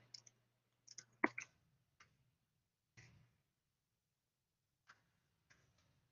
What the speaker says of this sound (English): I'm going to just type in my strategy here